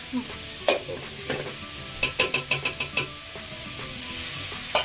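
Chopped onions fry and sizzle steadily in a pan for pav bhaji, reddening under close stirring; a quick run of sharp spatula taps on the pan edge rings out midway.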